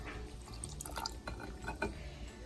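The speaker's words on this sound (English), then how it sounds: "I've got the vodka already poured in this measuring cup, so just pour that in there." Vodka is poured from a measuring cup into a glass jar holding vanilla beans, a quiet run of trickles and small splashes with a few bright drips, close and soft.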